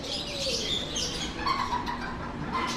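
At a bird farm, birds chirp and tweet in a steady, busy chorus, with thin high calls layered over a background murmur. Nobody speaks.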